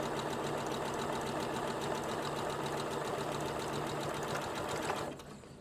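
An electronic sewing machine stitching a buttonhole in a skirt placket, running steadily with a fast, even mechanical whir and needle clatter for about five seconds before it slows and stops.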